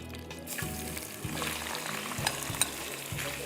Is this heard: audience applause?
no